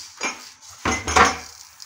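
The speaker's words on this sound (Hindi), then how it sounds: "मामा भी किचन में आ गई हैं, वो बर्तन धो रही हैं चाय वाली।" Dishes being washed in a home kitchen: tea cups, pots and cutlery clatter and clink in a few quick, close bursts with no talking.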